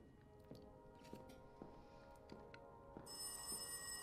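A telephone rings in the horror game Layers of Fear, several short repeating bell bursts at a steady rhythm, fairly quiet, ending in a brighter sustained ring, with no one talking over it.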